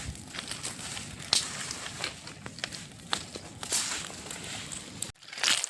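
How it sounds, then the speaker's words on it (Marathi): An open fire for popti, a village clay-pot roast, crackles and snaps with irregular sharp pops over a low rustling bed, fairly faint and close, with no talking. "पोपटीची आग आहे."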